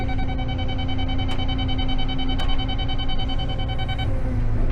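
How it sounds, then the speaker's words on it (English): A laser grade receiver on a basement foundation excavation site hums a steady electronic tone over loud background noise, with two sharp clicks partway through before the tone drops off near the end. "When it's beeping fast, that means you're almost to grade."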